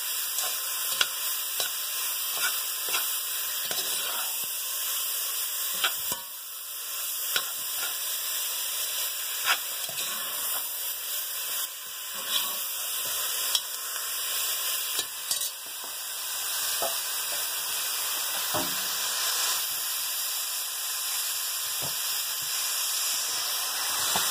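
Beef tips sizzle as they brown in a hot pan, a steady close crackling hiss that runs throughout, broken by scattered pops and the scrape of stirring, with no talk.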